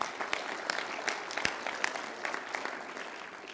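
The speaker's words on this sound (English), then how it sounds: "I think we should give those guys a round of applause." A small audience claps for a few seconds, steady scattered applause without cheering.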